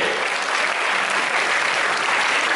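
Sustained applause from an audience at a school Hindi Divas celebration, a steady dense wash of many hands clapping together without a break, fairly loud and close, with no voices standing out.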